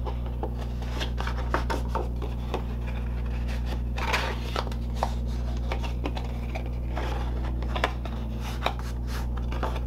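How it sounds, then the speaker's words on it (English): A card base folded and burnished along score lines, soft rubbing and scratchy paper strokes with light taps, close over a steady low hum. "Now we can take our card base and fold and burnish along the score lines."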